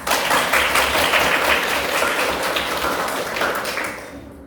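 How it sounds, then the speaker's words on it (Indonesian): A classroom of students claps together in steady, fairly loud applause that carries for about four seconds before trailing off. "Give applause for us."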